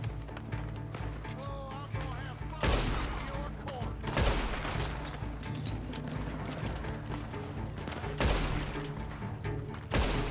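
Shots from basic starter firearms in Red Dead Online ring out at irregular intervals, with a few loud cracks standing out over a dense, continuous bed of game music and battle noise.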